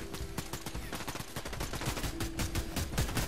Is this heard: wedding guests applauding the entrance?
no